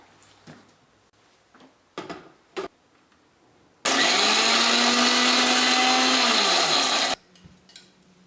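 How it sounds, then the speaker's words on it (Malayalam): A mixer grinder pulverises dried shrimp, ginger, dried chillies and curry leaves for a chutney in one loud, steady burst of about three seconds, with faint handling knocks just before it starts and after it stops. "നമുക്ക് നന്നായിട്ടൊന്ന് പൊടിച്ചെടുക്കാം."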